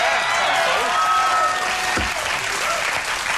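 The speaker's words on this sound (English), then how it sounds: "I just got a group of people to applaud." Studio audience applauding loudly on a late-night talk show, a dense, steady wash of clapping that fills the whole stretch without pause.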